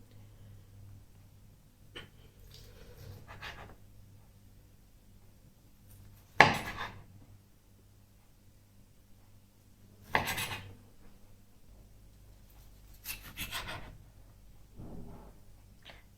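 A knife slicing cooked chicken pieces on a board, a few separate cuts spaced several seconds apart, close and fairly quiet against a faint low hum.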